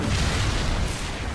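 In the video game Shuten Order, a door is smashed open by an explosion: a loud, sustained, rumbling blast fills the whole moment without any voices.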